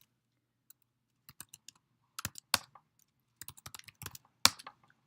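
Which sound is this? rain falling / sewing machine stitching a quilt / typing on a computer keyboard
typing on a computer keyboard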